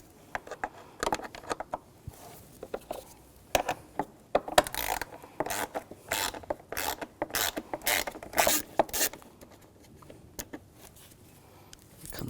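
Screws being removed while replacing the starter on a 2011–2018 Volkswagen Jetta, a rapid series of close metallic ratchet clicks in irregular bursts, with quieter gaps between.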